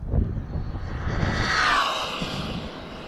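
A Rlaarlo X12S RC buggy tears past at full throttle at about 85 mph, its high electric motor whine rising and sweeping through as it nears, then fading away, with a low rumble underneath.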